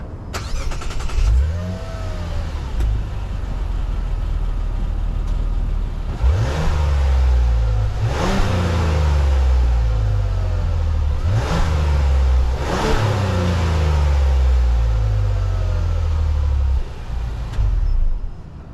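The 2024 Mazda CX-90's inline-six, Mazda's first, revved while parked: a smooth idle broken by about four quick blips that rise sharply and fall back, loud and close with no talk.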